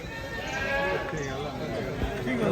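A billy goat bleats with wavering cries while people chatter nearby at a goat market in Punjab.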